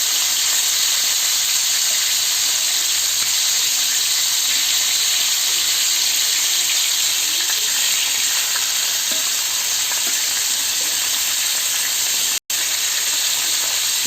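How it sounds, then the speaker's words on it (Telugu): Pieces of marinated Roopchand fish fry in a pan with a steady, loud, close sizzle and hiss that runs unbroken throughout, with no voices. "ఇలాగా ఫ్రిడ్జ్లో మ్యారినేషన్ తర్వాత ఇలా వేయించుకుంటున్నాం, ఫ్రై చేసుకుంటున్నాం అండి."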